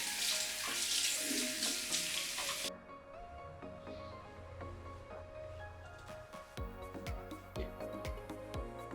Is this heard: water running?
yes